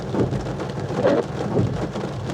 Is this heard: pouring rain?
yes